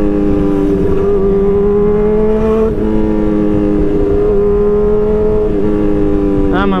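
A group of six superbikes, among them a BMW S1000RR, a Honda CBR 600RR and Ducatis including a Diavel, riding together with a loud, sustained engine drone and throttle swells. Wind rushes over it, and a voice talks over the noise.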